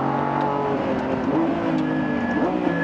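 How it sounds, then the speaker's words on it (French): A Lamborghini Revuelto, a 1015 hp hybrid V12 supercar, drives past with a steady, loud engine drone and rising harmonic tones throughout. "Encore une petite Revuelto en face."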